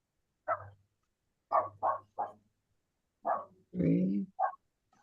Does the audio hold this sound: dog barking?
yes